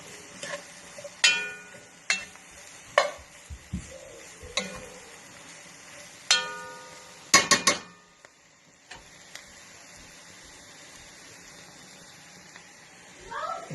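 Sausage stirred into a gumbo pot, heard as scattered clinks and scrapes of a utensil against the pot, with several sharper knocks and a cluster of clatters midway, fairly close in an otherwise quiet kitchen.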